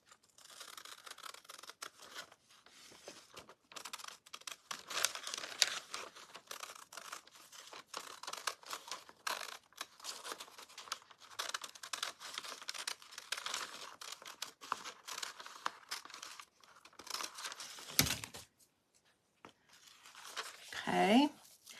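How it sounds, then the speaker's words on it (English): Scissors trimming the excess paper edge from a wooden decoupage Easter tag, a quiet run of crisp snipping and paper rustle across the whole stretch, close to the microphone. "I'm going to go ahead and trim that edge off"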